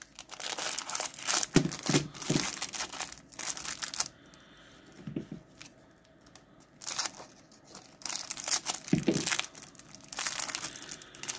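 Plastic cello wrappers on 1989 Fleer baseball card packs being crinkled and torn open, several bursts of crackling rustle separated by brief quieter gaps, close and fairly soft, with no voices.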